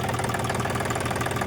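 A diesel tractor engine idles with a continuous, steady rumbling chug, loud and close, unchanging over its short span.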